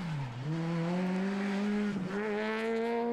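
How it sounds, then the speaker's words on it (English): Peugeot rally car at speed on a Belgian rally stage, its engine note loud and close, revving up and down through gear changes with brief tyre squeal, no talk. "This is Thibaut Mazoin in the Peugeot."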